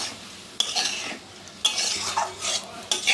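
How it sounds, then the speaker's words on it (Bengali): Soaked masoor lentils are stirred and fried in a pan with potato and pointed gourd, a spoon scraping and clinking against the metal in several distinct strokes over a soft sizzle, close and without talk. "আমি এর মধ্যে ভিজিয়ে রাখা ডালটা দিয়ে দিচ্ছি ভালো করে সঙ্গে কষাতে হবে"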